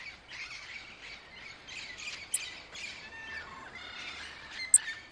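Parrots squawk and chirp faintly in a loose chorus, with a couple of sharper calls standing out over soft insect-like background noise.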